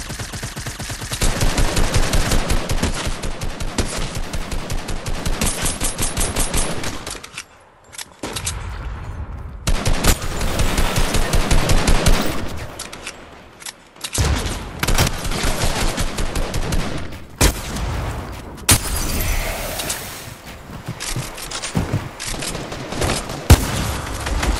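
Gunfire from a combat shotgun in Fortnite Season X: loud, rapid bursts of shots in dense runs, broken by a few brief lulls, with no talking.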